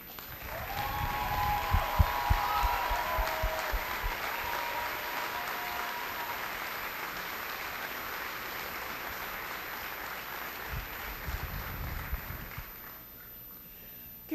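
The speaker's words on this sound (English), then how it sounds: "Could we please, one more time, give our graduates a hearty round of applause?" A large commencement audience gives a long, steady round of applause for graduating veterans at a college ceremony. The dense clapping holds evenly with a few brief cheers early on, then fades near the end.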